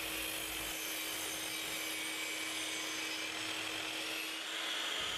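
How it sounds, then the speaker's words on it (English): A Makita LS1216 305mm mitre saw cuts through heavy timber, a loud, steady, close-up grinding roar of blade through wood that holds unbroken for the whole stretch with no talking. "Cut cornice with ease and make compound cuts in even the heaviest of timbers."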